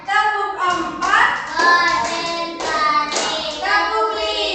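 Children in a classroom at a special school for autistic children clap their hands in time, the claps mixed under a loud, steady sung or chanted counting voice.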